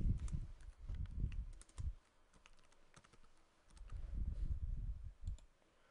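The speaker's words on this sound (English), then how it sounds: "type in content" Typing on a computer keyboard while building a Flash website, in bursts of rapid close key clicks separated by a short pause, quiet and without talk.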